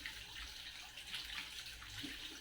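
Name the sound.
water running while washing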